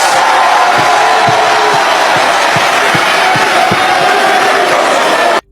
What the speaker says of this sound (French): applaudissez-vous, s'il vous plaît, fortement pour votre présence